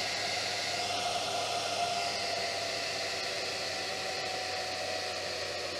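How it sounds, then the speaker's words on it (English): A 4-wire computer cooling fan on a fan controller blows air with a steady, even whoosh and faint hum, constant in level throughout with no talking. "Let's cool it down with the fan."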